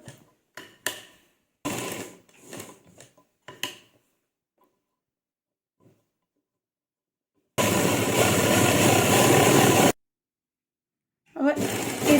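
A sewing machine runs steadily for about two seconds as it stitches lace onto a dupatta, preceded by scattered short clicks and handling bursts with brief pauses, then starts up again at the end.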